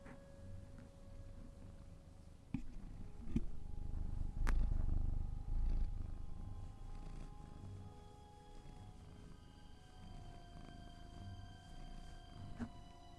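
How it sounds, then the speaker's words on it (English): A contented male house cat purrs steadily and close up, a low continuous rumble with a few soft knocks and rustles over it, and no voices. "Listen to that purr."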